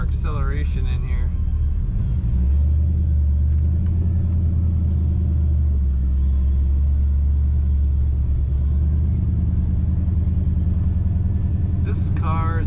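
A 1962 Chevrolet Nova restomod accelerating: a steady, loud, deep engine and exhaust rumble that swells and holds, heard from inside the car, with a voice speaking over it.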